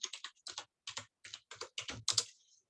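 Typing on a computer keyboard, close and fairly quiet, in about ten quick bursts of keystrokes with short pauses between them.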